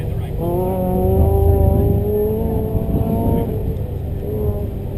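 An autocross race car engine drones and revs with rising and falling pitch at moderate distance on the course, with faint announcer talk mixed underneath.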